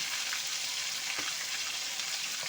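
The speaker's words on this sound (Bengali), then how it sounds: "চিকেনটাকে এপিট ওপিট করে আমি এই যে এরকম করে একটু ভেজে নিয়েছি।" Chicken pieces sizzle hard in hot oil over high heat, a dense steady crackle that fills the whole stretch without pause, with one brief stir or turn midway.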